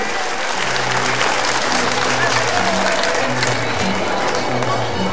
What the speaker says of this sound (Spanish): pido un aplauso para nuestro pueblo